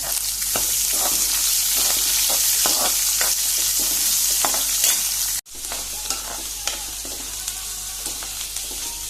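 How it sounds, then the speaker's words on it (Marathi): Chopped onion and cut red chilies sizzle steadily in a pan for jackfruit bhaji, with loud continuous frying broken by scattered stirring clicks and a brief dip partway through. "आता भितर ओनियन घालता म्हणजे कांदो घालता"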